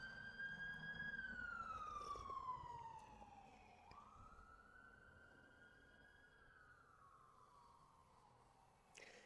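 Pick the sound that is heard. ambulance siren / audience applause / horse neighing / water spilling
ambulance siren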